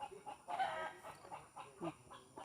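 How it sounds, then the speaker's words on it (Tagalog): Chickens cluck softly in a quick, uneven series of short calls, faint and somewhat distant, with no talk. "Ayun na manok."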